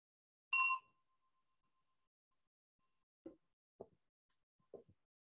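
A single bright bell strike marks the start of a church worship service, ringing out and fading into a long thin tail, followed by a few soft, low knocks.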